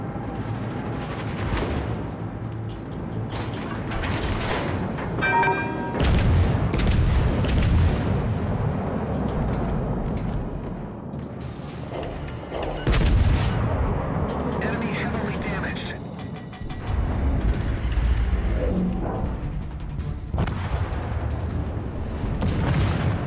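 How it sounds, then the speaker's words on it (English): Warship guns in the naval combat game World of Warships: Legends, with heavy booming salvos and explosions repeating throughout a dense, loud battle soundscape, under steady game voice callouts. "Concentrate fire on the enemy warship."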